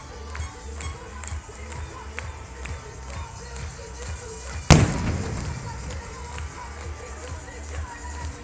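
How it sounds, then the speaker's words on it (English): One sharp, loud bang from a big firecracker rings out amid crowd noise and scattered distant pops at a street protest in Nancy, France, its echo trailing away. "It's like big firecrackers."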